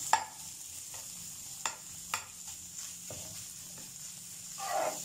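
Chicken pieces fry and sizzle in a pan for a cabbage and vegetable roll filling, a soft, steady crackle broken by a few sharp clicks of stirring, close and alone.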